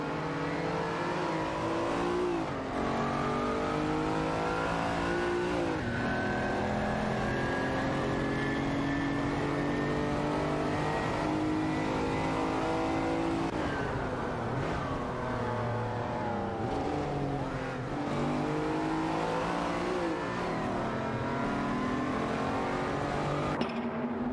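A Ferrari 512 TR and a Lamborghini Countach L1000 race in a video game, engines revving and climbing in pitch through repeated gear shifts, loud and continuous with no voices.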